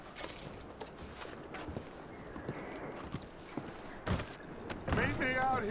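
Horses clip-clop and shift about in Red Dead Redemption 2, with hoof steps and tack sounds under game talk and a closing whinny.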